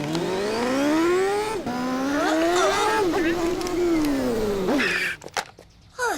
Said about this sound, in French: qu'est-ce que tu penses de ma voiture télécommandée?